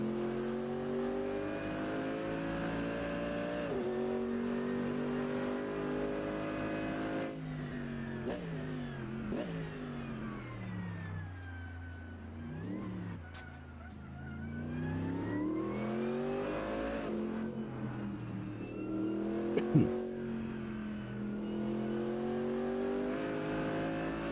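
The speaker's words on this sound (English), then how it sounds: "this AMG GT3 sounds so good" Mercedes-AMG GT3 race car in the iRacing sim, its engine revving up and down through gears with a steady loud drone and pitch sweeps, running continuously without any voices.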